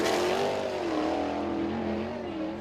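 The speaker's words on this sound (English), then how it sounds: "Kevin Thomas Jr. working through turns 3 and 4 here on lap number 2" A USAC National Sprint Car on a qualifying lap at Lawrenceburg Speedway, its engine a loud, continuous high-pitched roar through turns 3 and 4. The pitch dips and rises slightly as the car comes off the throttle and back on.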